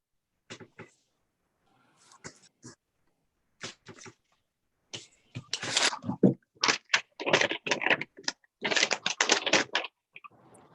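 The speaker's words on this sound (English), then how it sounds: "I'm making rustly sounds with my paper." Paper rustles close to a microphone during a city council meeting, starting as scattered short crinkles and then building into denser, louder bursts of handling noise.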